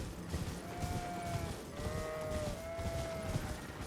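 Sheep bleat in the video game Elden Ring, a few drawn-out calls repeating at moderate distance over a steady ambient game backdrop.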